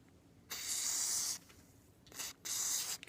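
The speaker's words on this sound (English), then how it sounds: "Spray it down." Cleaner sprayed onto M1 Garand rifle parts, near the piston tube and barrel: two close hissing aerosol bursts, one long and one shorter, with a quiet pause between them.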